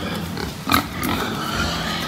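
A gilt on a farm grunts and squeals close by, with one sharp louder squeal early on over continuous rough background noise.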